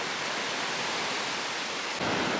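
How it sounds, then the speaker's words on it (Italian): Sea waves crash against the rocky lava coast at Los Hervideros on Lanzarote, a steady, loud, dense roar of surging surf and spray that fills the whole moment without pause. "Le onde danno spettacolo in questo punto, wow! Perché arriva sia di là che di qua."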